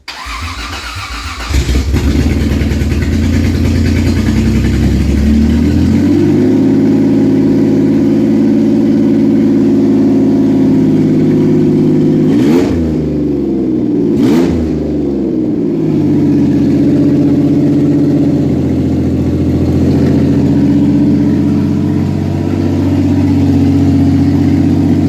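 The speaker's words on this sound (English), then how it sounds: "fresh 3/4 swap on this green 89. Donor 96. No exhaust on it yet." A green 1989 Toyota pickup with a freshly swapped 3.4 engine from a 1996 donor cranks, fires and then runs loud with no exhaust fitted, holding a raw idle with a couple of sharp revs midway.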